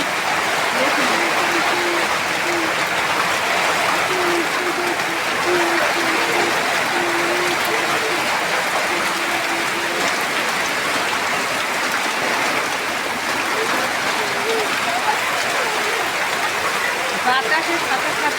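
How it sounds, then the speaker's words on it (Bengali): Heavy rain driven by wind after a storm keeps up a dense, constant roar of falling water for the whole stretch, with some faint talking partly buried beneath it. "বাতাসের সাথে সাথে বৃষ্টি।"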